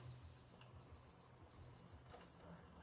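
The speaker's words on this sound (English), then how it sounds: "the beeper's just like working now" An electronic beeper sounds repeated high, thin beeps in a regular on-off pattern of about four pulses. A low background rumble runs underneath, and there is no speech.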